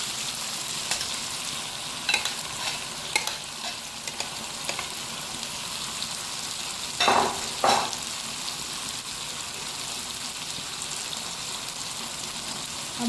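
Okra and onions frying over high heat, a continuous hissing sizzle with scattered pops and a couple of louder bursts of stirring scrapes, close and quiet with nobody talking.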